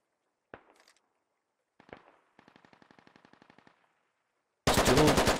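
Gunfire in the shooter game Squad comes as single sharp shots, then a fast rattling burst of automatic fire in the middle distance, ending with a loud, close blast of noise.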